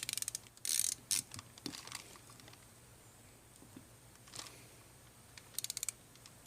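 A screw is turned by hand into a Mikuni carburetor part, giving faint, close clicking and ratcheting ticks in a few small clusters over a quiet background.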